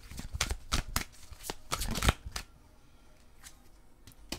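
Oracle cards being shuffled by hand, a string of quick crisp riffling flutters and taps close by, busier at first and then thinning out to a few soft shuffles.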